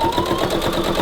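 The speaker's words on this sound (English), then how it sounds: "just zoom through the sewing machine until we get close to our mark that we made" A sewing machine runs steadily as fabric for decorative bunting is fed through it, a continuous close mechanical whir with a faint rhythmic stitching pulse and no pauses.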